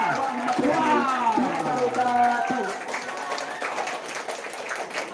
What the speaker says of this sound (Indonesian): Ya, kita tepuk tangan untuk dia.